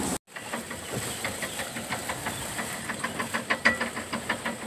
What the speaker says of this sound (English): Can you hear the mast going back and forth?